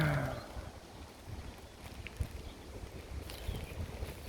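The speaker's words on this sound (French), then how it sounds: "Il y a du vent aujourd'hui." Steady low rumble of wind buffeting outdoors, gusting slightly louder at moments, with no voices.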